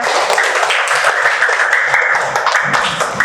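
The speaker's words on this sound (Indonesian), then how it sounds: "Boleh tepuk tangan dulu untuk kita semua." Steady crowd applause, dense clapping from many hands filling the space at an even level throughout, with no voices standing out.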